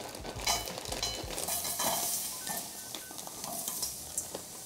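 Frozen vegetables hit a very hot pan or wok and sizzle steadily, with soft stirring and scraping clatter close by and no voices.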